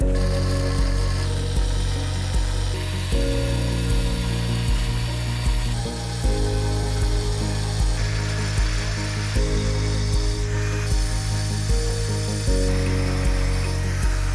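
A 4.5 inch blade on a power tool cuts out a countertop opening for an undermount sink, a loud, continuous high grinding whine that shifts pitch in steps as the cut progresses, with no voices.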